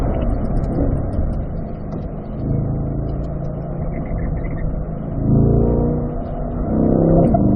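A race car on a track session accelerating hard, its engine note rising through the gears and surging louder twice toward the end, close and continuous.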